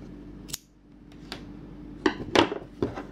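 Scissors snip through excess yarn on a crocheted mini watermelon slice, a few sharp close cuts spaced irregularly, with quiet handling sounds between them.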